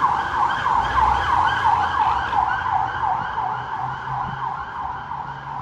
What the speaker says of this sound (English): Police car going by.